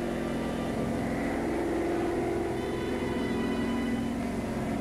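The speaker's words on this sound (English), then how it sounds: "German reconnaissance plane." A steady, droning German reconnaissance airplane engine from the WW2 era hums continuously at an even pitch, moderately loud with no pauses.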